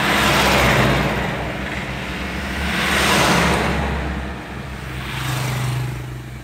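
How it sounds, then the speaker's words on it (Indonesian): Steady stream of cars and trucks rolling across the Barito bridge during a repair queue, a broad rushing traffic roar that swells and fades as vehicles pass close by, with no talk. "sekarang kendaraan roda 4 sudah mulai melintas"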